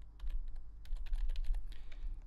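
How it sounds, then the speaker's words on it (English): Rapid typing on a computer keyboard while entering Python code, with light, quick clicks of shifting rhythm over a low steady hum. "going to put these parentheses, shift and 9 on my keyboard."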